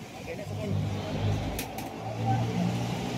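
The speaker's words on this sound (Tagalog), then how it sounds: "Sakay na kami ng tricycle." A motorized tricycle's engine drones and revs steadily while riding on a wet road, with people talking over the engine noise.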